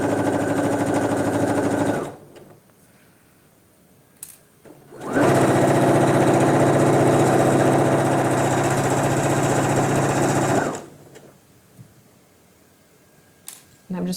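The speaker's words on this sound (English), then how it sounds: "So I'm just using this 5/8 mark on my machine as a guide as I sew these together." A sewing machine stitching a pant seam in two long bursts of steady, close, buzzing motor whir separated by quiet pauses with small clicks as pins are pulled out.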